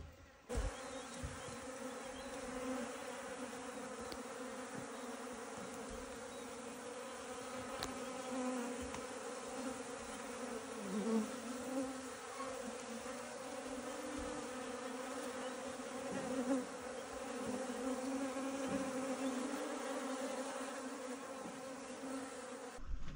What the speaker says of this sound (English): we are gonna be inundated with bees